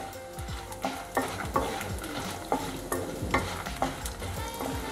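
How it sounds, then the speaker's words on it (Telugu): Grated coconut frying in a pan for a Telugu stuffed brinjal curry, with soft sizzling under repeated scraping strokes of a spoon stirring, close and rhythmic, no talk. "చివరిలో మనం కొబ్బరిని వేసి ఒక్క 10 సెకండ్స్ దీన్ని వేయిద్దాం"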